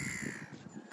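Crows caw outdoors during a walk, one hoarse call heard at a moderate distance over faint background ambience.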